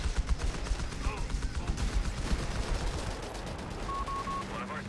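Dense, rapid gunfire and explosive cracks from a Company of Heroes 3 tank battle, with Crusaders clashing against a Panzer III and anti-tank guns, rattling continuously over rumbling battle noise while a voice talks underneath.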